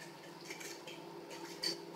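A whisk scrapes and clinks steadily against a bowl while a chocolate tart mixture is beaten, a light, fairly quiet metallic rattle with a few sharper taps near the end.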